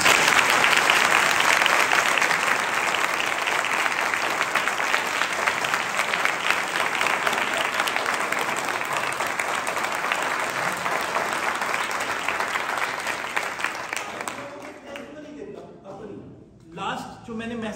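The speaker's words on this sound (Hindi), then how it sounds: "आपकी तालियां बताएंगी।" Congregation applause follows a pastor's sermon in Bahawalpur, sustained dense clapping filling the room for about fourteen seconds before tapering off, with a few scattered claps and murmurs at the end.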